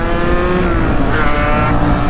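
Sherco big bore motorcycle accelerating hard on a street ride, a loud close engine roar rising in pitch as it revs quickly through the gears, with no voices.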